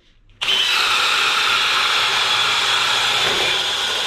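A cordless hammer drill, a Flex Turbo FX1271T or DeWalt XR DCD996, bores a hole. It starts suddenly after a short quiet moment and then runs as a loud, steady, close-up whirring drone until the end.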